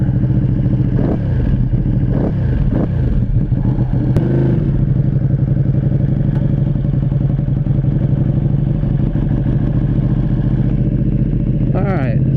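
A Ducati Panigale V2 in Racing EVO mode idles loudly up close, with a few throttle blips swelling and falling over the steady engine rumble.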